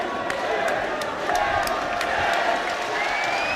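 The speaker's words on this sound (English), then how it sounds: "people once again are applauding these two fighters for a magnificent contest" A boxing arena crowd applauds and cheers the two fighters after the British 147lb title bout between Michael Jennings and Bradley Pryce, a continuous dense roar of clapping and voices under a commentator.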